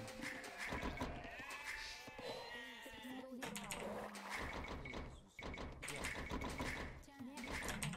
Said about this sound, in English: I found all my sheep.